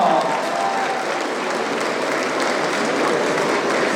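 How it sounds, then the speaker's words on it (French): Audience applauding contestants at a cosplay contest in Laval, a thick, continuous roar of clapping hands with crowd noise mixed in, loud and steady throughout. "On peut les applaudir très fort."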